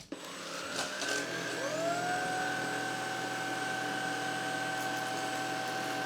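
An EASINE ILIFE G80 cordless vacuum cleaner running in auto mode, starting up with a rising whine that settles into a steady, close motor hum with a high tonal whistle.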